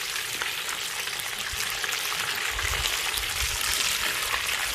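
Chicken wings deep frying in oil in a wok give a steady, dense, close sizzle with low bubbling underneath and no voices.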